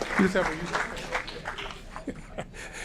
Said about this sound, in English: Round of applause for our Aurora Youth Council.